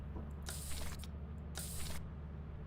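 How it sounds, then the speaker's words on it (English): A spray can hisses in the video game Lethal Company, two clear bursts of about half a second each over a steady low game hum, with no talk. "Do you spray it at monsters"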